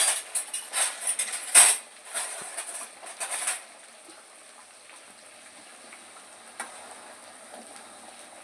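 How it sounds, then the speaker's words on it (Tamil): Hibiscus leaves are stirred in hair oil simmering in a metal pot, a spoon clinking and scraping in quick bursts at first, then falling to a faint low hiss with a single later tap. "செம்பருத்தி இலை ஒரு கைப்பிடி அளவுக்கு, அதையும் போட்டு கிண்டுறோம்."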